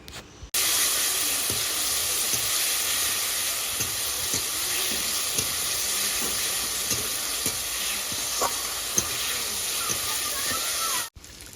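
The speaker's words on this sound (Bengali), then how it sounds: "এবার যে মশলাটা করে রেখেছিলাম সেটা দিয়ে দিলাম" Fried potatoes with freshly added spice paste sizzle steadily in hot oil, a loud, continuous hiss broken by occasional scrapes and taps of a stirring spoon against the pan.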